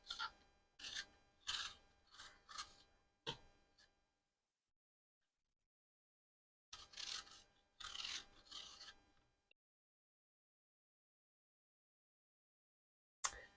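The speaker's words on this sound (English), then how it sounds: "we're now done peeling all of our apples" Apples being peeled by hand with a knife, producing short bursts of close scraping and rasping strokes separated by quiet pauses, then one sharp final scrape.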